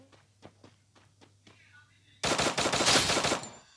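Gunfire in the mobile shooter Free Fire: a few scattered single shots, then a sudden loud, dense automatic burst that rattles on for over a second, close and dominant.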